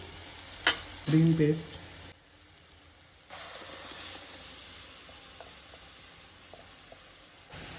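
Green paste sizzles in oil with browned onion for a green chicken dish. A few sharp utensil clinks and scrapes come first, then a soft, steady frying hiss continues.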